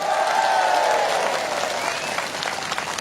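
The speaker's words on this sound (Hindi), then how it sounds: "एसीएफ के लिए एक बार जोरदार ताली।" Loud, sustained crowd applause at a hunger strike protest, filling the whole moment, thick and steady, slowly easing off toward the end.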